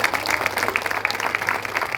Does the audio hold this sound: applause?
yes